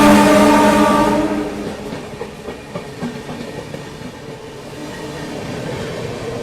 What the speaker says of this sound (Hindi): यह है बनारस नई दिल्ली सुपरफास्ट एक्सप्रेस।